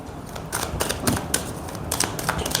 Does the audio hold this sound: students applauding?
no